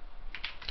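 A few quick keystrokes on a computer keyboard while working in Excel, three or four soft clicks in a short burst, close and quiet against a faint background.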